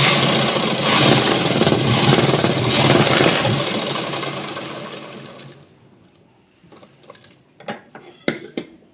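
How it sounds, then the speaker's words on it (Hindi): A sewing machine runs steadily for about five seconds, double-stitching a blouse with a loud, close whirring hum, then stops, leaving faint clicks and handling noises of cloth and parts. "हम इस पर डबल सिलाई लगा देंगे"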